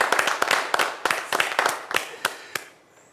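A small studio audience claps briefly, with sharp, distinct handclaps in a loose rhythm that thin out and stop after about three seconds.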